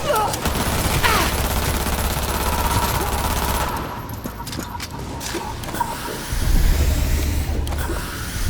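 Gunfire in the video game Cyberpunk 2077 during a battle at Arasaka with a sniper: dense, sustained bursts of automatic fire and explosions, loud and continuous, easing briefly mid-way before heavy firing picks up again.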